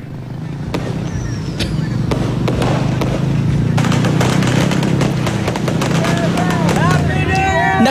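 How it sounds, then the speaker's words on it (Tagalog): New Year celebrations in Cebu ring with dense, continuous crackling of firecrackers and booming fireworks, punctuated by sharp bangs and rising whistles of rockets, loud and unbroken throughout, with faint voices in the mix. "Nakabibinging putukan at makukulay ng mga fireworks"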